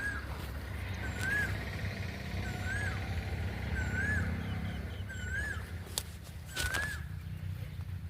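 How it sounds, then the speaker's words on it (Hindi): A common koel calls beside the dried-up Pahuj river near Jhansi, among flowering plants, repeating a short rising note about six times at regular intervals over a constant low background hum. "कोयल की आवाज़ आप सुन सकते हैं।"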